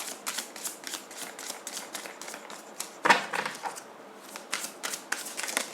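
Tarot cards are shuffled close up in a quick, papery riffle of rapid flicks and soft slaps, with one sharper snap midway and no talking.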